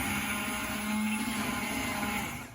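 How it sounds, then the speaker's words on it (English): An immersion blender whirs steadily through a pot of soup, a loud close motor drone that holds for a couple of seconds and then tails off, with no talking. "I'm going to pulse this with an immersion blender."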